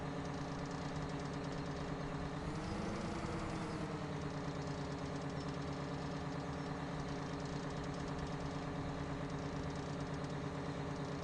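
Tractor engine running unattended in Farming Simulator 2017 on the Westbridge Hills map, a steady, loud mid-pitched drone with a slight rise in tone near the start, continuing without talk throughout.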